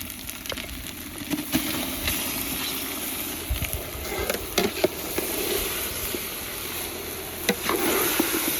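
About six to seven kilos of turkey meat drop into a hot pan at a village outdoor cookout and fry with a steady, close sizzle, broken by scattered stirring clatters and small pops throughout.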